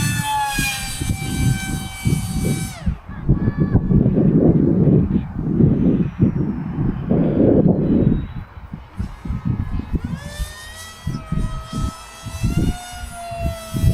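A small Esky Eyas RC model airplane's motor whines and shifts pitch as it flies in strong wind, with wind rumbling loudly over it throughout.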